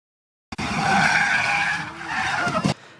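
Car racing game Top Gear 2 on the SNES: a loud, steady engine whine with continuous tire skidding and squealing that rises and falls, ending in an abrupt cut.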